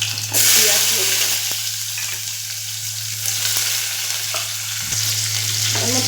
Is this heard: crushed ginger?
yes